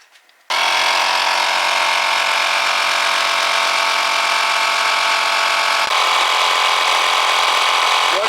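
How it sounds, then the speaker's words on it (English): A 12V Sakaki tire pump switches on abruptly and runs steadily at close range, a loud buzzing motor drone with a rattling compressor tone, briefly shifting near the end, with no talking. "you start the pump, you see the pressure"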